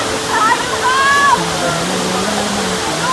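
Strong, steady rushing water of Maapon Falls roars continuously, with excited voices calling out in Filipino and English over it.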